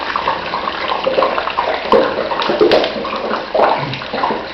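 Ice cubes dropped into the water layer of a water-type deep fryer give a steady watery sizzle and splashing with small pops, close and fairly loud, with no speech.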